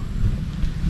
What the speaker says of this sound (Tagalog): tapos yun na yung ulan na malakas